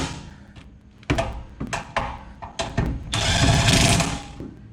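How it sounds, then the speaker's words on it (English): A DeWalt cordless impact wrench tightens bolts in short, loud, close bursts of rattling hammering, several quick pulses and then a longer burst, with clunks in between. "If you don't have a dewalt impact, I suggest you get one."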